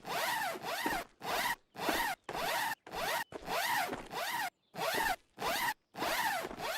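A zipper in the game Ghosts of Tabor is pulled again and again, about ten sharp rasping strokes in quick succession separated by short gaps, close and clear with no speech.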